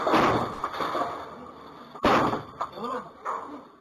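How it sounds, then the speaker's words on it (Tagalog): Plainclothes police kick at the door of a house in Imus, Cavite, landing loud impacts: a heavy thud near the start and a sharper bang midway. Voices run underneath, with scuffling and noise between the blows. "Pinagsisipahan ng mga nakasibilyang pulis ang pinto ng bahay na yan sa Imus, Cavite."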